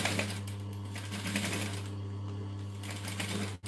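A sewing machine runs a bag seam at close range, its motor humming steadily under rapid needle chatter before stopping abruptly near the end.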